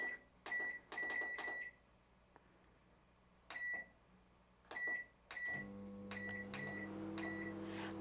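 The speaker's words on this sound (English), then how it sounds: "I'm going to microwave them for 2 minutes, maybe a minute and a half." A microwave oven heating jars hums steadily after a run of beeps and clicks as its buttons are pressed, the low drone continuing to the end.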